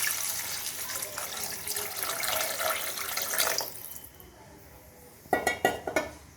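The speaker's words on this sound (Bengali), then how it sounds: "পরিমাণ মতো জল অ্যাড করে দেব।" Water pours from a tap into a cooking pot for a vegetarian ash gourd peel curry, a steady running splash that stops, then a few sharp clinks of metal utensils against the pot.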